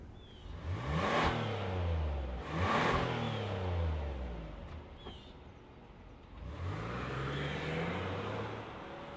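A 2025 Kia Telluride SX Prestige X-Line SUV starts up, then revs through three rising acceleration sweeps as it pulls away, moderately loud with some outdoor background noise.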